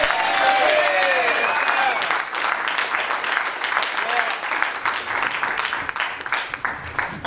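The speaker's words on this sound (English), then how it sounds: "Please, a wonderful, wonderful round of applause" Audience applause for a saxophonist at a jazz concert in a library in Jersey City, a warm burst of clapping that starts full and gradually thins out, with a voice speaking over it.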